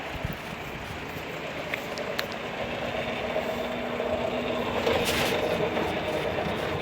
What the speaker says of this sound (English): so now all we're going to have is wheel spin from the rear.